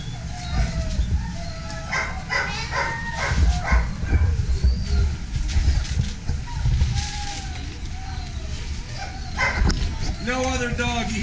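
Greyhounds in a dog track kennel yip and bark in scattered bursts over a constant background din, with people talking through much of it.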